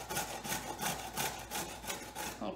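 A carrot is rubbed up and down a kitchen grater in quick, rhythmic rasping strokes, close and soft, with about a dozen strokes continuing steadily and no talking.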